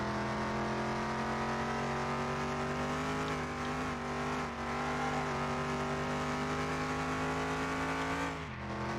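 A car lapping a track in Car Mechanic Simulator 2021, its engine droning steadily with strong harmonic tones, a brief dip and lift near the end as it brakes and accelerates again, loud and close throughout.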